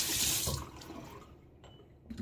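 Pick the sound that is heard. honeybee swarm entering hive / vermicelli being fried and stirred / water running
water running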